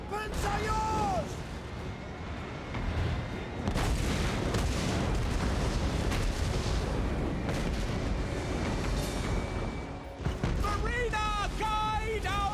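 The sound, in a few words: great cannon artillery fire in video game Total War: Warhammer 3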